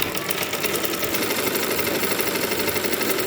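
An electric sewing machine runs steadily while stitching a thin seam into a nightie sleeve, a close, continuous rattling hum with fast even needle clatter throughout.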